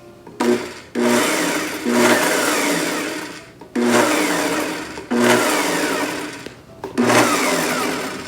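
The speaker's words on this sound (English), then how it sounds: "So I'm just gonna add 2 eggs in our blender." A blender beats two eggs, whirring loudly in several short pulses, each a few seconds long, starting and stopping abruptly with brief pauses between.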